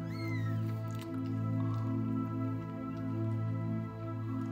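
A mother cat and her young kittens meow indoors, a few thin, rising high-pitched cries over a loud, steady low hum, faint and close, with no talking.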